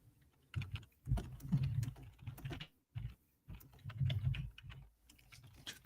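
Typing on a computer keyboard sounds as bursts of close, quiet key clicks in uneven clusters with short pauses between them, heard without speech during a livestream about crypto trading.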